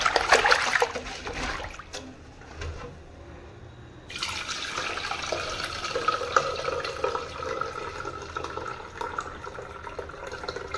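Water poured over black urad dal with skins while washing it for idli batter, a continuous trickling and splashing that steadies into a close, even pour after a brief lull.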